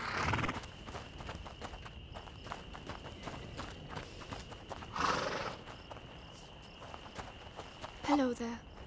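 A horse in A Plague Tale: Innocence snorts and shifts its hooves nearby with soft clops, then gives a short whinny near the end, over a quiet night ambience with insect chirps and a steady high tone.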